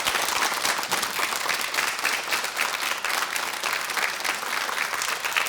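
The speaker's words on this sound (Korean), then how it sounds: "다시 한번 박수 보내드리고 싶습니다." A TV studio audience on a KBS morning talk show applauds a rheumatology specialist after his talk. The clapping is full and continuous, staying loud and even from start to finish.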